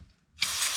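After a short quiet moment, a can of brake cleaner lets out a sudden, steady spray hiss onto a fuel lift pump surface on a Kubota V2203 engine in a Bobcat skid steer loader, close and continuing to the end.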